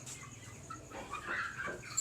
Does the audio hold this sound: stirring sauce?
no